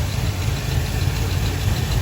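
A rebuilt 2008 Chevrolet Silverado Z71 engine idles with a Truck Norris cam, DOD delete and new pistons and rods. It gives a loud, steady, low rumble with a choppy undertone for the whole stretch, with no voices.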